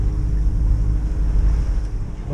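Sailboat motoring on calm sea with its engine restarted, a steady low engine drone mixed with wind and water noise, loud and close throughout.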